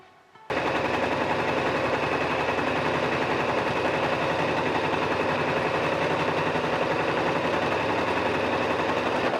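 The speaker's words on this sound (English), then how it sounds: "I'm going to sew it to the top bit of the skirt" Sewing machine stitching gathered lace onto the top of a skirt, starting after a brief quiet moment and then running as a steady, rapid mechanical rattle, close and loud, without pause or talk.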